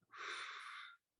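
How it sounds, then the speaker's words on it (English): A single deep breath drawn in through the nose and mouth during a gentle movement session, a close, breathy inhalation lasting nearly a second before stopping into silence. "Nice deep breath in"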